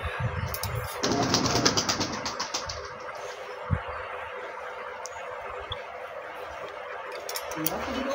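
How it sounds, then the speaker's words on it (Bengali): Open-tailed pigeons take off with a brief burst of flapping wings, followed by softer fluttering and cooing against outdoor background noise, while someone talks throughout. "খোলা লেজের পায়রা খেলিয়ে যাচ্ছে।"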